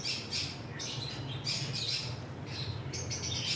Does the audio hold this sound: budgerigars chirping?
yes